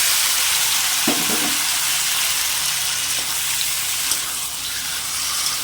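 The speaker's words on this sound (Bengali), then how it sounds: "ফোড়ন ভাজা হয়ে গেছে, তো ওর মধ্যে আমি এই যে মাখিয়ে রেখেছিলাম কচুগুলো, তো ওইগুলো আমি দিয়ে দেবো" Pieces of spice-coated taro hit a hot mustard-seed tempering in a pan, giving a steady sizzle with a few sharper stirring scrapes near the start, close and alone with no talk.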